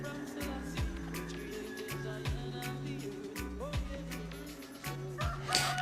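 Roosters crow again and again in the background, each drawn-out call recurring every second or so over a steady low hum.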